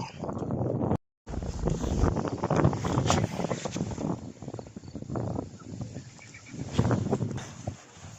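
Strong wind buffets the microphone at an outdoor fishing spot where carp and crucian carp are caught on float and feeder tackle, a steady roaring rumble with gusty swells that carries on almost without break.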